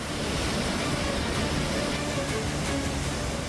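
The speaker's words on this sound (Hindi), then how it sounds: "कुल्लू में नदियों का शोर खौफ पैदा करने वाला है।" Flooded rivers in Kullu, swollen by heavy rain, roar with a dense, unbroken rush of water that stays steady and fills the whole space.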